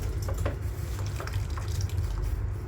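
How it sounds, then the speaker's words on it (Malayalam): Blanched palak spinach being lifted into cold water in a kitchen, soft close splashes and drips of water with light handling noise, no voices. "ഇനി ഇത് തണുത്ത വെള്ളത്തിലേക്ക് എടുത്തു വയ്ക്കണം."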